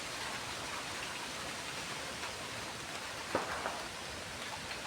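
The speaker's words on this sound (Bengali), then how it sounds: "বৃষ্টি ঝড়ের সাথে সাথে বৃষ্টিও এসে গেছে" Steady hiss of rain falling continuously during a storm, an even wash of sound with a brief louder patter near the end; no voices.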